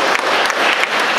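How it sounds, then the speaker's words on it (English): Conference audience at a closing ceremony giving a short burst of dense, loud applause, even and continuous from start to finish. "So I guess they were to have some applause"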